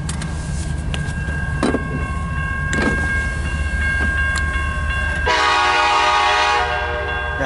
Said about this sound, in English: Here's train number 2 for this week.